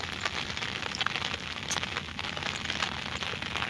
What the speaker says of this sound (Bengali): দেখেন শব্দ করতেছে বৃষ্টিতে, হালকা হালকা বৃষ্টি নামতেছে, আবার ঘন বৃষ্টি নামে।